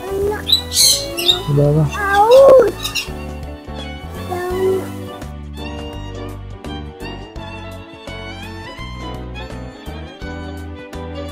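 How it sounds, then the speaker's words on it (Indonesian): Peacock at a zoo in Bukittinggi giving a few loud, harsh squawking calls early on, heard over background music with a person speaking briefly. "Burung apa itu? Burung merak."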